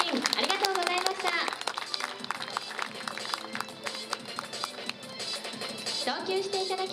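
Baseball stadium crowd clapping after a ceremonial first pitch, dense scattered applause throughout, with an announcer's voice over a PA speaking on top.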